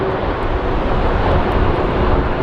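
Mesa Airlines airliner at Phoenix Sky Harbor airport, its engines a steady, loud broadband roar that holds even throughout without any break.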